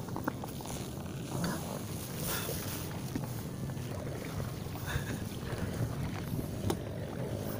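Matsumoto MOB-830G outboard motor running on an Intex Seahawk 4 inflatable boat on a lake, a steady low drone under continuous wind buffeting on the microphone, with no talk.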